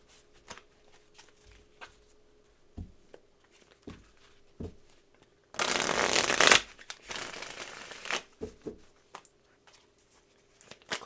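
Tarot cards being shuffled, with soft scattered taps and flicks, then a loud dense riffle in the middle and a few more sharp card snaps afterward, no talk.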